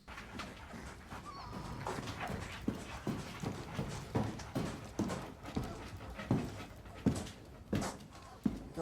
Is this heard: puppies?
yes